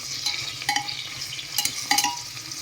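Braised meat, about three hundred grams, frying in oil with reddened onions in a pressure cooker for biryani, stirred with a spoon; a steady close sizzle runs under several scraping stir strokes, with no talk.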